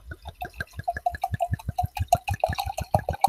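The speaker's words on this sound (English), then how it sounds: "Ready for the pour?" Liquid glugs and splashes into a glass in a rapid, irregular series of bubbly gurgling pulses, close and fairly loud, continuing steadily for a few seconds without talk.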